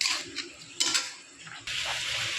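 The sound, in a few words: mixing spices into chicken meat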